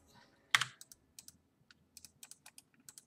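A computer mouse or keyboard clicked in short, light taps during a real-time strategy game, one louder click followed by a quick irregular run of quiet clicks close up in a near-silent room.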